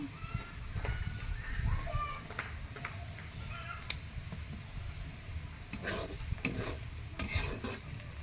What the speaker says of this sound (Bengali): আমি সকালবেলায় রান্না করতেছি আলু ভাজি, ধুন্দুল ভাজি